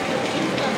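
Dense, steady hiss of heavy rain pouring down on a surface, constant and loud with no break.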